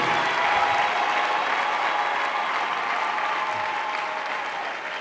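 A congregation at a mass prayer meeting claps together in a thick, sustained ovation that fills the room evenly and fades a little at the close.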